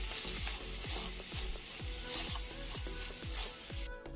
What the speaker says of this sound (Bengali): এটা এখন হাত দিয়ে ভালো করে মাখিয়ে নেব